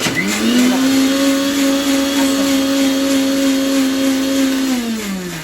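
A mixer grinder runs with its jar holding water to wash out leftover dosa batter, a loud steady motor whine with a pitched hum that starts, holds evenly for about five seconds, then winds down, with no voices.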